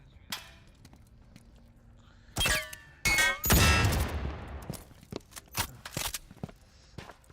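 Firewall Zero Hour on the Containment map: a few sharp, loud gunshots burst in close succession, followed by scattered smaller clicks and thuds in a quiet indoor space.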